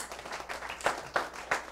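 An audience at an office holiday party claps in short bursts, a few louder swells rising over a soft, moderate background of applause.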